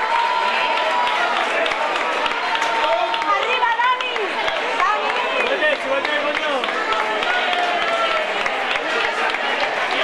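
Outdoor crowd applauding a runner at an urban mile and half-marathon prize ceremony in Spain, steady broadband clapping mixed with chatter, while an announcer talks through it over a loudspeaker.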